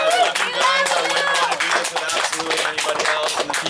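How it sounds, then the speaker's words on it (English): Wedding guests applaud together in a dense, steady patter of close claps that runs the whole stretch, with voices and cheering mixed in. "I just want to give a round of applause for you guys"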